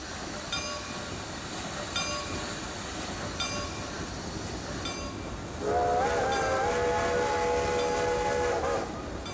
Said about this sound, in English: our 462 Pacific pulls out of the engine depot with its first load of Pullman heavyweights for our first express train in this region